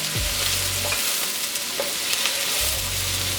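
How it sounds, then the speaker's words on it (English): Onions frying gently in hot oil in a pan for Gobi Manchurian give a steady, close, even sizzle with faint low thumps and stirring. "I'm gonna add my onions in ever so gently. And we're gonna fry these off until they're nice and soft."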